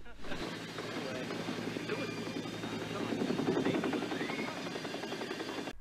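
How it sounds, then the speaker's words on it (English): A helicopter's rotor thrum rumbles steadily in a movie's background, layered under other film sounds and swelling slightly toward the middle. "I wonder if that helicopter noise in the background was a little shade they threw at John Landis"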